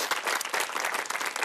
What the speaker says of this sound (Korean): 한번 박수 한번 크게 쳐주시죠.